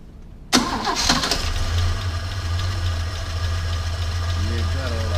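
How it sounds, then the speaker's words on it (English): A cold Holden HZ ute engine, just fitted with a replacement carburetor, cranks briefly and catches, then settles into a loud, steady idle close by. "I'll just turn the key. She should run straight away, even though the motor's stone motherless cold."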